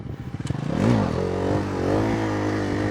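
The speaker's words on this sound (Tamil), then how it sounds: "ஃபஸ்ட்டு வந்து பேசிக் வீலி பண்ணலாம்." A Bajaj Pulsar motorcycle revs hard for a basic wheelie stunt, starting with a rapid pulsing engine note that swells into a loud, sustained roar, close by with no talking.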